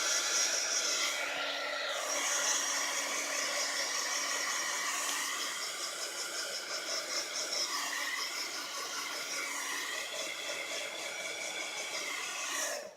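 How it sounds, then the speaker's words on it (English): Steady loud blowing whoosh of a heat gun drying watercolor paint on a card, running continuously and close up for the whole stretch with a slight tonal wobble. "Now, get my heat gun"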